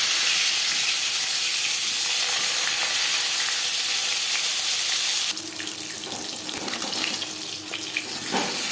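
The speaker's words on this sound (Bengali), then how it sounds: "চার চামচ রিফাইন্ড অয়েল গরম করে নিয়েছি এবার দিয়ে দেবো ম্যারিনেট করে রাখা মাছ" Marinated bhola fish frying in four spoons of hot refined oil, a steady close hiss that shifts and roughens partway through as pieces settle into the pan, with no talking.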